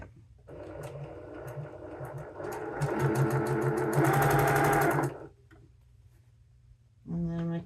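Sewing machine stitching a Roberts Wood Flower patchwork dress slowly around a curve, a close whirring run that builds and quickens for several seconds, pauses, then starts again briefly.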